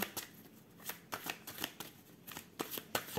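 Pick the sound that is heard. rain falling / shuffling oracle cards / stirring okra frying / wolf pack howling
shuffling oracle cards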